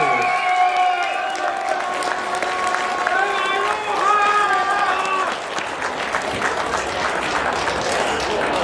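A crowd at a Finnish drifting championship awards ceremony applauds loudly and continuously for the season's champions, with cheering voices and a tonal sound over the clapping early on.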